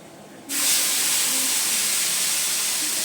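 A ginger, onion, garlic and tomato paste hits a hot kadai and bursts into a loud, steady sizzle that starts abruptly after a brief quiet moment and holds strong to the end.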